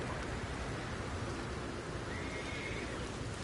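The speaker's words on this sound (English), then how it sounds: "that would explain the rain" Steady, even rain hiss in the Red Dead Redemption 2 video game, unbroken for the whole stretch, with a faint horse whinny rising partway through.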